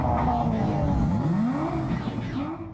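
Street racing cars and stunt motorbikes roar and rev continuously, engine pitch sweeping up and down as vehicles accelerate and pass, loud and close throughout with a dense, unbroken motor drone.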